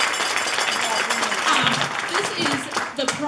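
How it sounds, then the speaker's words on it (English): An audience at a school band parent preview applauds the senior drum majors, a brief burst of steady clapping that stays even throughout while a voice talks over it. "yeah, you can clap for them"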